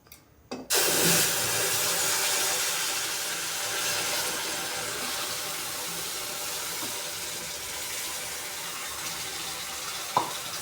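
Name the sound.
pouring jaggery water into roasted semolina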